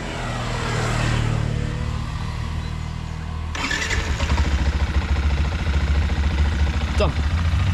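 A motorcycle engine roars close by, swelling suddenly midway and holding a loud, steady rumble to the end, with a voice talking underneath.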